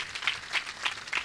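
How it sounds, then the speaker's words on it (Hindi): A few slow, spaced claps at a religious gathering honoring an architect, roughly four distinct hits in a row, moderately close and fairly soft. "तालियां इनके लिए जोरों से।"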